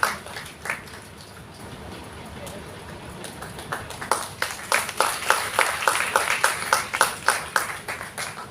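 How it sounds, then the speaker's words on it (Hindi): Audience applause for an honoured family at a civic felicitation ceremony, starting as a few scattered claps and swelling into steady, loud, rhythmic clapping from a crowd. "एक बार जोरदार तालियां हमारे इस बेहतरीन परिवार के लिए"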